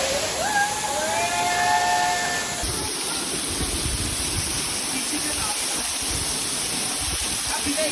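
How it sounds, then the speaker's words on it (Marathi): Heavy monsoon waterfall in Kharghar, Mumbai, a steady broadband roar of falling water throughout, with a brief whistle-like tone over it early on. "हा बघा वॉटरफॉल किती मोठा हा पण."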